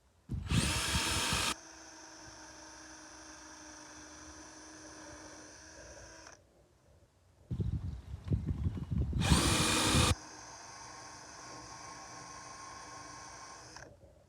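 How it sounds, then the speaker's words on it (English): Power drill driving screws into 1-inch lumber: two sharp high-pitched bursts, each followed by a few seconds of steady whirring, with a short quiet gap between the two runs; close and fairly loud. "I pre-drilled and screwed in. I got one more to do over here."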